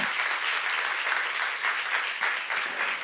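Constant audience clapping rings through a church seminar hall, many hands at a steady, full volume from start to finish, with no speech on top.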